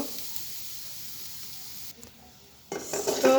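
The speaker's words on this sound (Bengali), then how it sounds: "এইভাবে আমি একটু ভাজি করে নিব" Cashew nuts frying in a pan and being stirred, with a soft sizzle and scraping under a quiet kitchen hiss that drops out briefly before louder stirring clatter returns near the end.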